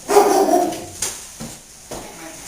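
A few sharp dog barks close by, spaced out over a couple of seconds, the first loudest and the rest shorter.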